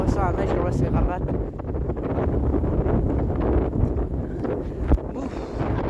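Strong winter storm gusts of around 70 to 80 km/h roar across the microphone in Saint-Augustin, a dense rumbling buffet that rises and falls, with a voice faintly audible underneath.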